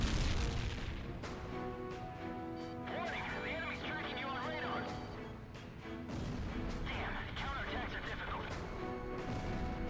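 Anti-aircraft guns in the flight combat game Ace Combat Zero pound out repeated bursts of fire over a dense, steady wash of background game noise and music.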